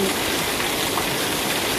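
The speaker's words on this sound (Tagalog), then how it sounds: "Grabe ang ulan po. Sobrang buhos po ng ulan ngayon." Heavy rain pours down in a dense, steady roar, loud and unbroken throughout.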